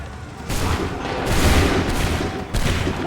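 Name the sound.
musket volley gunfire in Assassin's Creed III video game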